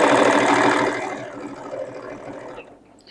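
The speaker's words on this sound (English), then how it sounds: "Going to flip it in and we're going to sew it right down through here." A sewing machine stitches along the edge of a bolster pillow cover, running steadily and close for about a second before quieting to a softer, slower whir that fades out.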